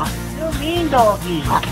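A Jack Russell rat terrier gives a few short, close yips and barks, loud and bright against a low background hum.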